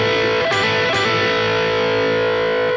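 Distorted electric guitar plays a gritty blues rock lick in first position, sustained notes ringing with a couple of quick picked accents, loud and alone.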